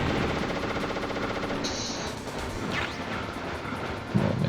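Missile blasts and gunfire in the stealth game Metal Gear Solid, a dense continuous barrage of rattling shots and crashes throughout, with a heavier thud near the end.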